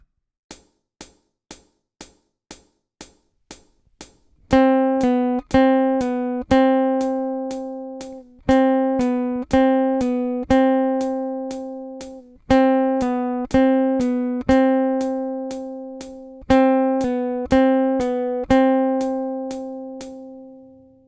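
A steady click beat counts in, then single plucked guitar notes follow in an even, repeating pattern over the clicks, clear and close.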